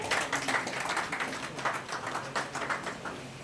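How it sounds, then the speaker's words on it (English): An audience applauds at the official launch of a food export company, Deluxe Link Express, a moderately faint, sustained patter of many hands clapping with uneven bursts, heard from some distance. "Please give them a round of applause."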